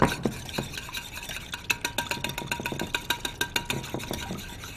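Eggs and a little water are whisked together for an egg wash, a quick close rhythm of light clinking whisk strokes against a bowl, alone and steady.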